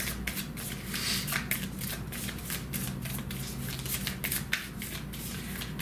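Cards from a Personal Power oracle deck shuffle continuously at close range, a steady papery riffle and slide with rhythmic flutters throughout, alone.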